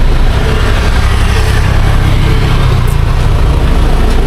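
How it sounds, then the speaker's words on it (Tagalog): A motorcycle engine runs loud and close with a steady low rumble throughout, with no voices over it. "Uy, may motor ah."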